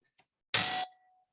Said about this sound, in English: I kept wondering where the bell's coming from